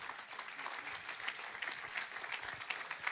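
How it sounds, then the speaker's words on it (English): An audience claps in a steady scattered patter, moderately quiet and continuous throughout. "So, yeah, you can clap on that."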